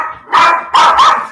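A dog barks loudly and close by in two bursts, the second a doubled bark, agitated after fireworks.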